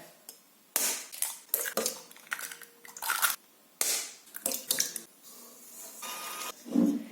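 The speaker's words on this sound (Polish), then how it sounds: "Jajka musimy utrzeć z cukrem na pulchną masę." Eggs are beaten with sugar into a fluffy mass for a berry cake made without yeast, giving loud, irregular bursts of scraping and churning with short pauses between them and no talk.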